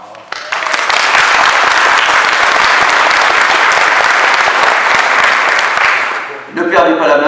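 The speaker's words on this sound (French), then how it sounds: "vous pouvez l'applaudir, que dis-je, l'acclamer, sans restriction" Audience at a 2020 municipal election public meeting in Coutras applauding, a loud sustained round of clapping lasting several seconds before fading into voices.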